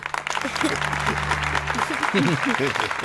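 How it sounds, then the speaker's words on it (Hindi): Children clap in a school assembly, a dense stretch of applause beneath a low steady hum, with voices talking over the clapping toward the end. "बजाओ ताली।"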